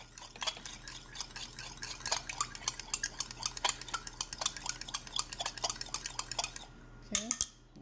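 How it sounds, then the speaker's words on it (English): A utensil stirring olive oil into liquids in a bowl for muffin batter, quick repeated scraping and clinking taps in a steady rhythm, close and fairly quiet, ending with a couple of louder knocks. "Give that a stir."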